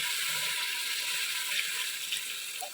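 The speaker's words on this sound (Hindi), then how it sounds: "अब मैं इसमें पानी डालने लगी हूँ।" Water poured into a pot of browning onions and mutton paya (trotters) sets off a loud, steady hiss and sizzle that fills the whole moment, with no voices.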